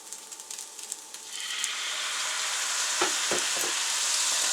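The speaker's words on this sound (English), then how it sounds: "Now we're going to add our tablespoon of soy sauce." Soy sauce hits frying shrimp fried rice and sets off a rising, loud, crackling sizzle that swells and holds, with a few sharp stirring scrapes in the pan.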